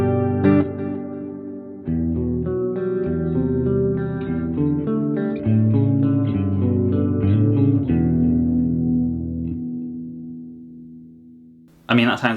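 Clean electric guitar chords and single notes played through chorus, delay and reverb, ringing with a shimmering wash and echoing tails; steady and fairly loud with no talking, a final strum cutting in at the very end.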